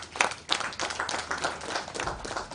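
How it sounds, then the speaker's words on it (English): Hand clapping from the audience at an annual university research conference, a scattered burst of claps that stays moderately loud and close over a couple of seconds. "I think we should give them a hand clap."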